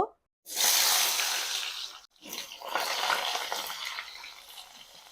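Ridge gourd dropped into well-heated mustard oil in a wok, giving a loud, steady sizzling hiss that breaks off briefly at the start and again midway, then carries on.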